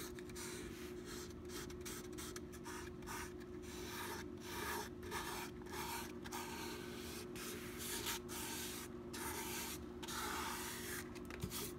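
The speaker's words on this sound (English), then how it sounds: "I don't want to sand through, so I'm just taking it really carefully" A guitar's finish is sanded carefully by hand, giving a continuous close scratchy rubbing with brief gaps between strokes over a steady low hum.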